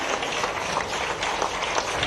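Dense, continuous applause from a crowd in Bhopal honouring the mother of cricketer Kranti Gaud at a felicitation ceremony, loud and steady for the whole stretch with no pause.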